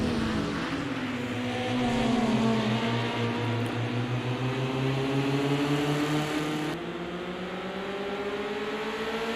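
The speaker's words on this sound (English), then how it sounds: "Brandon DeSanto showing us how to do a handbrake turn." A vintage touring car engine in the PC2 racing game drones steadily at high revs, its pitch sagging and rising through a handbrake turn, a continuous loud tone with no talk.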